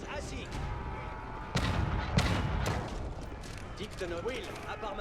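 Cannons fire in battle in the Age of Empires IV video game, with several heavy booming blasts among continuous combat clatter while someone talks over them.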